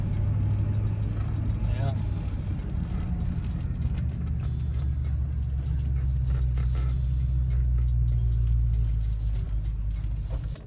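A manual car pulls away as the clutch is released during a beginner driving lesson, a steady low engine rumble droning throughout with a voice speaking briefly over it.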